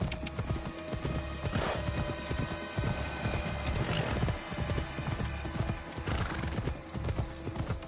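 A horse gallops with steady rhythmic hoofbeats and whinnies several times in the Assassin's Creed Odyssey video game, loud and close over a busy game soundscape.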